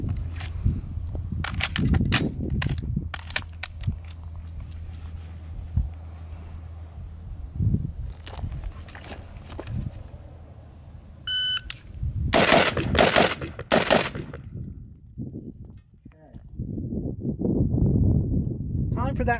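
Pistol shots on a USPSA-style target transition drill: a rapid string of sharp, loud reports early on, then another tight burst of shots later, with quieter gaps and handling noise between.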